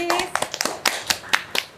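A small classroom of students gives scattered applause for a classmate's group, with a handful of sharp, uneven claps close by and brief young voices mixed in.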